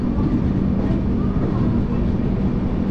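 The Telangana Express at Nagpur Junction gives a loud, steady rumble and roar of rolling railway carriages, heard up close as a dense, continuous drone.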